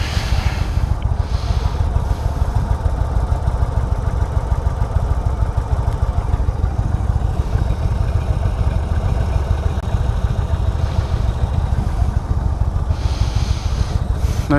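A 2016 Indian Roadmaster, a big touring motorcycle, idles outdoors on a hot day with a close, loud, continuous low rumble that stays even throughout.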